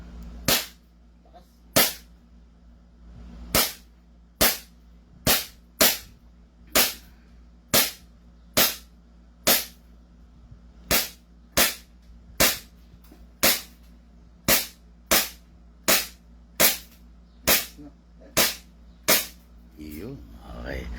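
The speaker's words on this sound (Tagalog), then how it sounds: "Firing 2011 High Kappa Elite Series." A 2011 Hi-Kapa Elite Series airsoft pistol fires about twenty sharp, loud cracks in a steady cadence, a second or so apart, over quiet room noise.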